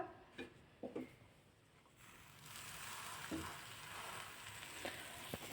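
A buttered sandwich goes butter side down onto a hot tava, a soft steady sizzle rising after a couple of faint clinks and handling sounds, quiet and close.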